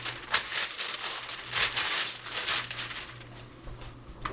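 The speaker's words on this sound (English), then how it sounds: "Get a baking tray out and line it with parchment." Parchment paper crinkling and tearing while lining a baking tray, soft close crumpling bursts in an otherwise quiet kitchen with a faint low hum.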